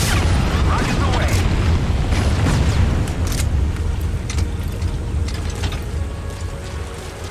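Rocket strike from the Pequod support helicopter in Metal Gear Solid V, a loud burst of booming explosions and debris that rolls on and slowly fades, with a voice heard over it.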